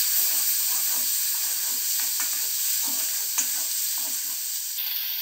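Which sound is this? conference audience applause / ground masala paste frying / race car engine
ground masala paste frying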